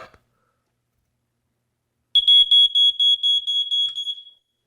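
A household smoke detector under test lets out a rapid series of piercing high beeps, close and loud, after a short silence, then stops abruptly.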